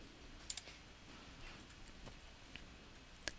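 Someone types a password on a computer keyboard, giving a few sparse, quiet clicks scattered over a few seconds with faint room hiss between them.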